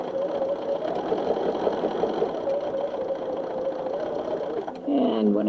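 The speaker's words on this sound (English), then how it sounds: "I'm going to continue stitching" A quilter's sewing machine stitches fabric in a steady, close, mechanical whir, with a brief change in pitch near the end as the stitching shifts.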